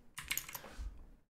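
Keys on a computer keyboard clatter in a quick burst of several taps while drafting in AutoCAD, close and fairly soft, followed by a brief heavier keystroke near the end.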